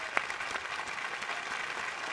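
Audience applause welcoming a brave child onto a stage in a Bollywood film scene, a steady wash of many hands clapping throughout with no speech over it.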